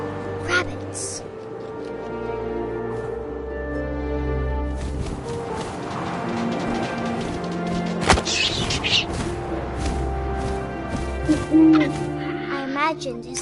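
An owl hoots in the wind as a story effect, a few resonant calls rising over a layered ambient bed with scattered thumps and rustles, while a voice narrates.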